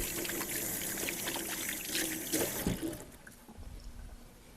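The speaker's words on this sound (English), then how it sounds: "Give my hands a quick rinse." Tap water runs steadily as hands are rinsed under it, a broad splashing pour that shifts and thins out toward the end, heard close and alone.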